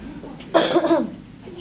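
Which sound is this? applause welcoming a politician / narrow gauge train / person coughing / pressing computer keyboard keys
person coughing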